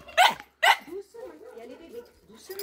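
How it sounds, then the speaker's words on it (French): Schipperke dogs give two sharp, close barks in quick succession, followed by softer whining and grumbling, while someone talks to them. "ça, c'est des bons chiens, ça"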